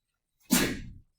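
In a classroom, a single sudden sneeze bursts out as one short, sharp blast of breath that fades within half a second, heard alone and fairly close.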